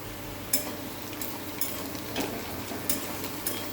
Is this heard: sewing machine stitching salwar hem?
no